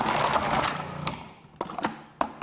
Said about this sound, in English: you're going to use the pulse button, and look how quickly we're going to slice up these green beans